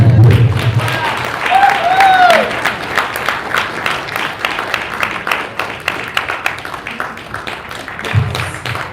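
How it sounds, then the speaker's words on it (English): Big crowd applause at a political diaspora convention in Chicago, loud rhythmic clapping that swells and pulses, with a voice briefly calling out over it near the start. "Give it another big applause"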